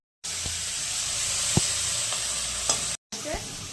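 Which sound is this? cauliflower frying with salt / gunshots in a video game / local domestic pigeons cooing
cauliflower frying with salt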